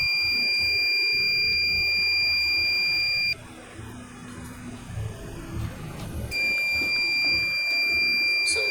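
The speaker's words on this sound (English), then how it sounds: "how to make a motion sensor light with a buzzer as a bonus" A shrill, high-pitched electronic buzzer on a homemade motion sensor light sounds continuously, cuts out for a few seconds amid background noise, then resumes.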